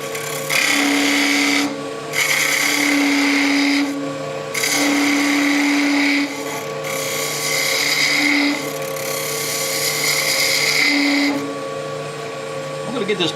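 A wood lathe spins steadily while a spindle gouge cuts end grain, the tool's harsh scraping coming in repeated strokes of a second or two with short pauses between, close and loud, with a voice talking over parts of it.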